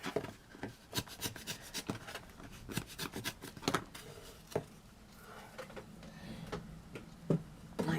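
Small craft pieces being cut for a miniature bucket, a close, irregular run of crisp snips and clicks with light rubbing and scraping in between, no voices.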